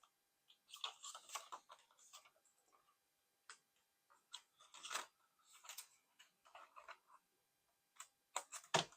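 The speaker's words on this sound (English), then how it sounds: "Cut out the corners there with my scissors." Scissors snipping the corners of paper for a Christmas mini album, with quiet irregular clicks and short cuts, faint and close, with no talking.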